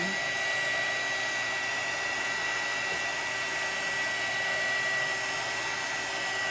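A small electric motor spins a wine glass for alcohol ink marbling, giving a constant, even whirring hum that holds steady and close throughout.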